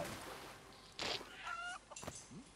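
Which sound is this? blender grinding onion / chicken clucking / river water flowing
chicken clucking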